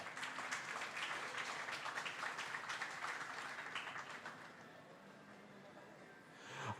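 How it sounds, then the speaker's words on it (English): Applause from a crowd at a corporate launch and MoU signing ceremony in Malaysia: steady, distant clapping that gradually thins and fades, with faint room sound behind it. "Please give him a big round of applause."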